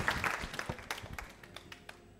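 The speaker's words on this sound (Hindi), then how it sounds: "तालियां जोरों से बजाइए इस संकल्प के लिए प्रधानमंत्री जी के" Audience applause at a televised quiz show: a faint, steady wash of many hands clapping together for about two seconds, with scattered sharper claps standing out.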